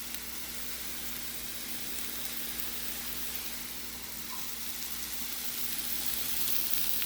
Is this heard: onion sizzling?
yes